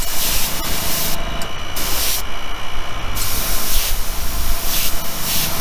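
Spray paint goes on a custom bone shaker bike in light coats: a loud, close, continuous aerosol hiss with brief pauses between passes and no talking.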